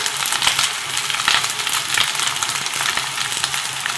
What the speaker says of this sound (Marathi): आणि हे परतून घेऊया